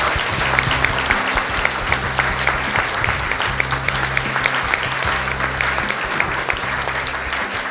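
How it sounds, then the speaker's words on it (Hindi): Loud, sustained congregational clapping offered to God during a praise and worship service at Khrist Bhavan, Mudila, a dense steady wash of hands over a low rhythmic musical drone. "तो हम उसी खुशी के साथ अभी एक जोरदार ताली ईश्वर के लिए बजाएंगे"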